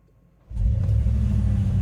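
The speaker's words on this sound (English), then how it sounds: "listen to the sound of the air conditioning" Air conditioning inside a 2025 Mercedes-AMG G63 V8 hybrid switches on after near silence, becoming a steady, close, breathy blower rush with a low rumble underneath.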